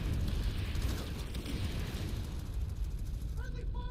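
An explosion from a strike in Planetside 2 makes a dense, loud, sustained rumble of booms and debris that stays thick for several seconds under the game's background noise.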